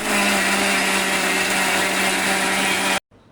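A kitchen blender runs steadily for about three seconds, grinding green chillies, garlic, onion, coriander and spinach into a paste, loud and continuous with no talk, then cuts off abruptly.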